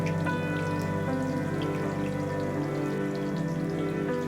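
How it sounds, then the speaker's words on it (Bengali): Chopped onions frying in a pan for a goat meat curry, a continuous dense crackle and bubbling close by with no talk. "পেঁয়াজটাকে ভেজে নিব।"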